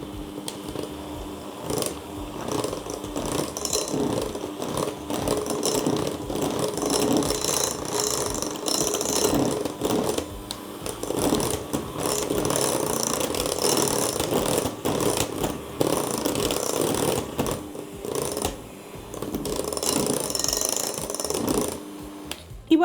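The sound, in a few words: electric mixer beating Nutella cheesecake filling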